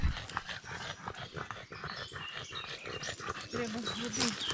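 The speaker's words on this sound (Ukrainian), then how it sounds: "Поки собаки п'ють водичку" Dogs in a birch forest during a mushroom-picking outing, with close, repeated lapping and panting sounds under steady outdoor noise and a person talking.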